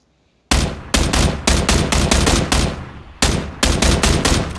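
Video-game M16 rifle fired in rapid bursts, loud, close, sharp cracks repeating in quick rhythmic strings with a short pause between two volleys, no voices.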